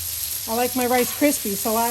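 Butter and fried rice sizzle on a Blackstone griddle outdoors, a steady close hiss of frying with a voice talking over it in short bursts.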